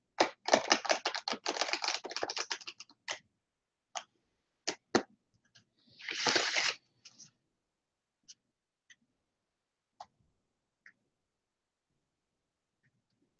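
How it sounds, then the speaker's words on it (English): A deck of cards shuffled during a live meditation reading: a quick rattling burst of riffled clicks, then a few scattered taps and a short whooshing riffle, all close and quiet, with long silent gaps. "I'm going to go ahead and shuffle the deck for you."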